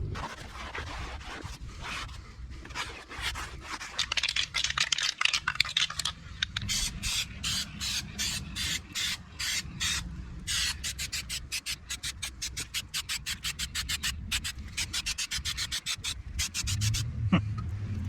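A cloth rubs over a 19.5-inch wheel on a 7.3 Powerstroke 550 truck to dry it, a close, steady swishing with rapid back-and-forth strokes throughout.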